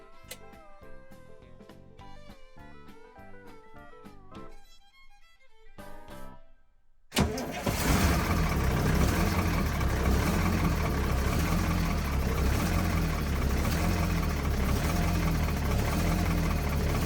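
A Foretravel Grand Villa motorhome's bus engine, unstarted for over a year, cranks and catches after quiet mechanical clicks, then settles into a loud, steady low idle rumble that runs on without letup.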